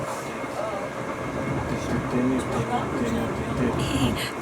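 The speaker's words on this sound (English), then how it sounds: "This train is very shaky today." Steady rumble and rattle of a train ride that feels very shaky, with a continuous low drone and faint clattering throughout; background voices murmur faintly beneath.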